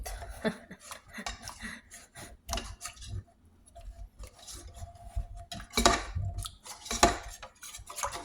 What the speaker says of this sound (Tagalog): Halo-haloin nyo hanggang matunaw ang taba.